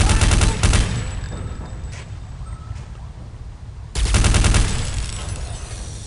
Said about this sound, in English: Stupid auto sentries.